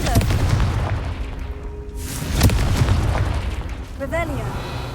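A Confringo fire spell in the video game Hogwarts Legacy bursts into loud booming explosions amid game sounds, with a voice speaking over them.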